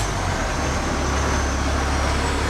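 A Freightliner semi truck engine drones steadily with deep low rumble and broad road noise, continuous and close, with no talking.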